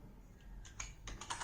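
Keys are pressed on the keypad of an 8051 microcontroller LCD kit to enter commands. A few quiet, separate clicks come close together, faint against a low background hum.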